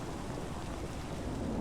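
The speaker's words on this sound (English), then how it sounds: "We have hail now." Hail storm from a Minecraft 1.12.2 weather mod in a video game: a steady, dense roar of falling ice and rain with a low rumbling undertone, constant and fairly loud with no pauses.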